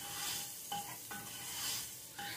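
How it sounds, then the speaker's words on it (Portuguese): Brown rice sizzles faintly while frying in a pressure cooker pot, a soft steady hiss with a few light scrapes of stirring against the metal. "Deixar fritar o arroz"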